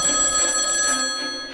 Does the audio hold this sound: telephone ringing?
yes